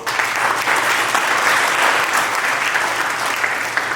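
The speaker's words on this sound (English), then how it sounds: "Another round of applause." A crowd applauds loudly and steadily, a dense wash of clapping that continues without pause from start to finish.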